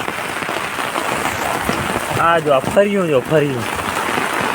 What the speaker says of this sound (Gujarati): આજે વરસાદ ધોધમાર વરસાદ પડે